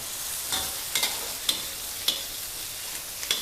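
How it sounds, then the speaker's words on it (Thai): Sliced shallots frying in oil over medium heat for a pad thai sauce, a steady soft sizzle with a few light clicks of stirring, no voices. "เจียวหอมให้เหลืองสวยเลยนะคะ"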